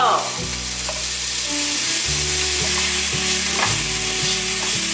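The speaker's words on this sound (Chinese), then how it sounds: "快速的翻炒。" Cucumber and edamame are stir-fried quickly in a wok for a vegan home-style dish, giving a loud, close, steady sizzle with repeated scraping and tossing sounds from the spatula.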